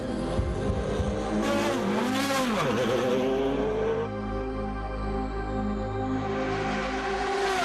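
Acura prototype race cars running a simulated 12-hour practice race ahead of the Sebring debut, engines loud and continuous, with rising and falling revs, a pitch sweep as a car passes, and steady racing roar throughout.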